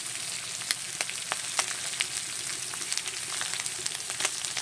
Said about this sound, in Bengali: এভাবে চুনো মৌটি মাছগুলো ভেজে নেব